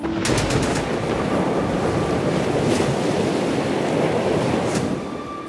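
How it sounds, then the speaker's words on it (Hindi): Heavy sea waves churned up by Cyclone Biparjoy crash continuously as a loud, dense roar of surf mixed with gusting wind, with no voices. "समंदर की लहरें मचाएंगी तांडव।"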